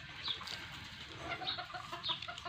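Bantam chickens cluck softly and chirp in short scattered calls while being fed ground corn, a steady low rustle running underneath with no talking.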